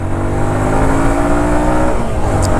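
A Runner Knight Rider V2 150cc semi-racing motorcycle accelerates through its gears, the loud, close engine revving up steadily with one pitch drop at a shift, alone without talk.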